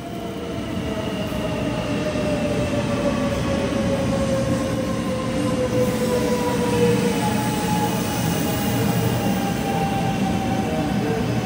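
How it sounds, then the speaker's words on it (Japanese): A 500 series Shinkansen train rolls steadily into Okayama Station with a constant deep roar and thin whining tones that slowly drop in pitch, continuous and fairly close. "はい、500系新幹線の到着です。"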